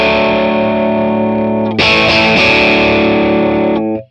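An electric guitar played through an overdrive pedal with the gain set too high, giving a harsh, heavily distorted sustained chord that is re-struck midway and rings loud and close before cutting off.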